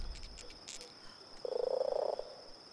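A single rapid, pulsing frog croak from the video game Tomb Raider rattles out for under a second over a faint steady insect-like tone, followed by quiet.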